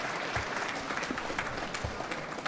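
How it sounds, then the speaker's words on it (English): Audience applause after a talk, a dense patter of many hands clapping at once, fairly faint and distant in a room, steady for a few seconds with no talk over it. "Oh, and of course, applause."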